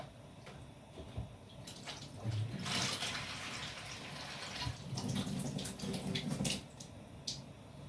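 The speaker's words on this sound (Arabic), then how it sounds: "وهنبدا نحط لها كوبايه ميه" Water pours and splashes into a pot in several bursts, with brief pauses and drips between the louder gushes.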